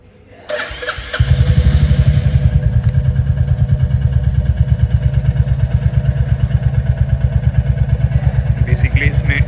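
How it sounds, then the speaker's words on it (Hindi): A Royal Enfield Hunter 350 fitted with a Power Rage aftermarket exhaust cranks and catches on a cold start, then settles into a loud, close, rhythmic thumping idle; a brief click precedes ignition. "तो आइए अब करते हैं अपनी बाइक को एक कोल्ड स्टार्ट।"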